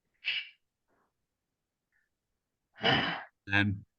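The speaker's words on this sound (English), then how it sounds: "Now just breathe in that position" Breathing by someone holding a deep squat during a movement exercise: a few separate breaths and sighs, soft and close, with long silent gaps between them and a voiced exhale near the end.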